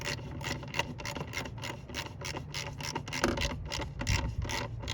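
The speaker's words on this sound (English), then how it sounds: "we got to tighten our bolts up in the back" Bolts being tightened at the rear of a 2001-04 Kia Rio during a brake line change, a steady raspy ratcheting and scraping that runs continuously at close range with no talk.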